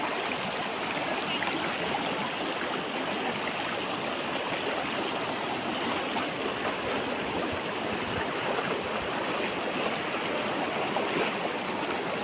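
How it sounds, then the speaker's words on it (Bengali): Fast-flowing floodwater rushing through flooded homes in Hailakandi during the 2025 flood, a steady loud broadband roar of churning current filling the whole stretch without a break, no voices. "ওই দেখো জলের স্পিড স্পিড কারে হয়।"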